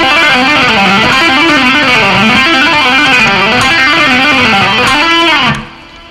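Fast legato run on electric guitar, hammer-ons and pull-offs at full speed, loud and sustained with distorted effects-driven tone, ending abruptly near the close with a quick fade, no speech.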